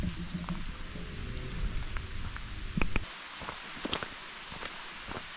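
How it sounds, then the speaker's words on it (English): Light rain starts falling outdoors at a hiking gap, scattered drops ticking and pattering over a soft steady hiss, with a windy rumble that drops away partway through. "As the rain begins to fall"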